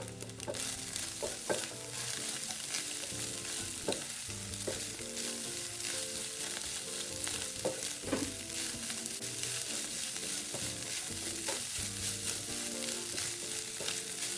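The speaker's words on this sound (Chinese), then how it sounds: "高火快炒后，米饭就会开始弹跳" Rice with egg and garlic is stir-fried over high heat in a wok for taro and sausage fried rice, giving a steady, loud sizzle with spatula scrapes and clinks throughout, with no voices.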